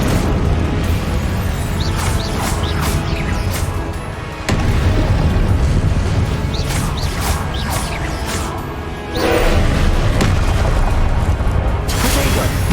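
Descendo and Depulso spells strike in Hogwarts Legacy combat, a dense barrage of loud booms, crashes and bursts layered over continuous rumbling game noise, with sharp impacts near four and nine seconds and no spoken voice.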